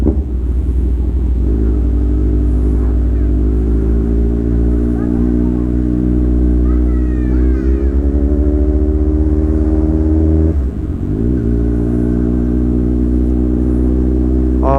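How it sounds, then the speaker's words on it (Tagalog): A Kawasaki Z1000 motorcycle engine warms up at idle, a loud close steady rumble with slight rises in pitch and a brief dip near the end, running continuously without speech over it. "Magpapainit lang tayo ng makina guys saglit."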